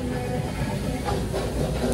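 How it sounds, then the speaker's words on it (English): Shrimp and crab sizzle steadily on a hot grill at a Korean restaurant, a dense continuous hiss and crackle heard close and loud with no break and no talking. "Just arrived and it's literally cooking. You can hear it. Sizzling."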